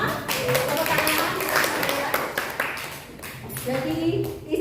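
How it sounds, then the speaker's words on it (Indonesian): A class of students clapping together in a school classroom, a steady burst of applause filling the space at close range, with some voices mixed in underneath. "Tepuk tangan."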